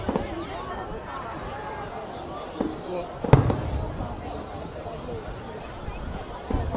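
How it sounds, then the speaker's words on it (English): Fireworks burst over Dee Why Beach in Sydney during the 9 p.m. display, with a few scattered booms and one sharp, loud crack midway, all over a steady murmur of crowd chatter. "It's the 9 p.m. fireworks here in DY Beach."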